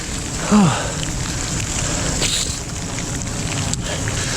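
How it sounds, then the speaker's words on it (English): Steady rain patters on a surface with wind noise on the microphone during a bike ride on the Katy Trail, a continuous close hiss and a brief low murmur early on. "It's like the rain's been pretty steady,"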